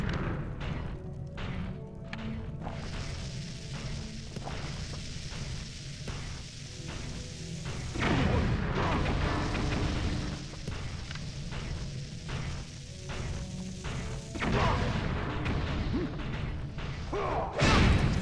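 Bomb explosions in the video game Zelda Twilight Princess: several heavy, booming thuds land at intervals within a loud, dense bed of game music and effects.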